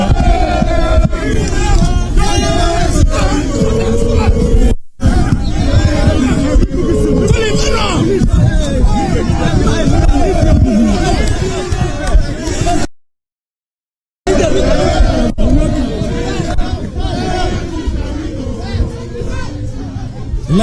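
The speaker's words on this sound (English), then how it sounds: "The crowd is getting really uncontrollable. It's an uncontrollable crowd." Dense, loud crowd hubbub at a polling station during an election, many overlapping voices and shouts in constant babble, close and unbroken apart from two brief dropouts.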